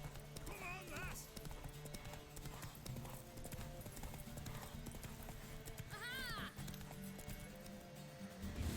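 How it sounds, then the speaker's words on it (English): Horse galloping in a race in The Witcher 3, a quick clip-clopping hoof rhythm running under continuous game music and effects, with a brief whinny and people talking over it. "Toda la estamina del caballo dio para la carrera."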